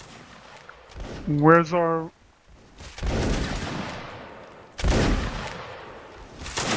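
Two rolling musket volleys crack out in a Napoleonic Wars battle in Mount & Blade Warband, each a loud burst that trails off slowly. A short tonal call comes before them, and a voice speaks briefly.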